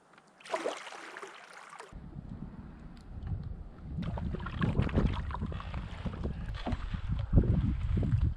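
Wind gusting and rushing over a canoe paddled through a narrow passage in Wabakimi forest, steady broadband blowing with low rumbling buffets on the microphone, close and continuous with no speech.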